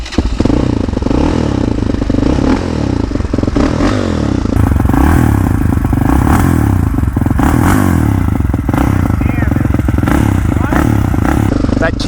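A Yamaha Raptor 686 quad with a big cam is ridden hard, its engine revving loud and close in repeated surges, with clattering and scraping from the terrain and occasional muffled voices.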